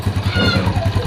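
A Yamaha Jupiter Z1 motorcycle engine fitted with a new piston idles close by in a workshop, its steady low, rhythmic pulsing chugging evenly throughout the short stretch with no voice over it.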